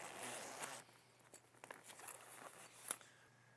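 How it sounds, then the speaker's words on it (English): Zippers on the side of a Roswell Shadow Top bimini are drawn closed, a faint, close zipping rasp in a few short runs with small handling taps around them, no talk. "now we're ready to zip it in. So there's 2 zippers on each side"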